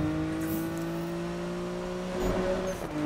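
Car engine in the racing video game Need for Speed (2015), a steady whining drone with sustained tonal pitch, rising slightly near the end, moderately quiet and with no talk.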